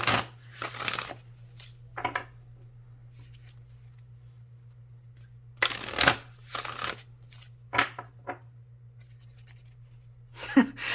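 Tarot cards are shuffled and riffled in several separate bursts, crisp close papery flutters and snaps spaced apart over a steady low hum, with no talking.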